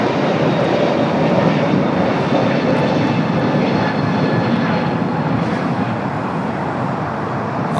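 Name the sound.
Finnair Airbus A350-900 from Helsinki arriving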